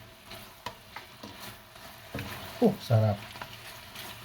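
Pork tocino and longganisa fry in a pan with no oil, a soft steady sizzle with a few stirring scrapes, while a voice speaks briefly over it.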